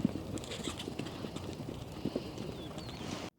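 Horse hooves clip-clop at a steady walking rhythm on a ranch, fairly close and moderately loud, with faint outdoor ambience and a few birds chirping in the background.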